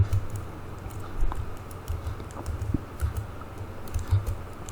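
Quiet clicks and taps of a computer keyboard come in short bursts as shortcuts are typed while writing JavaScript, close and soft with no talking.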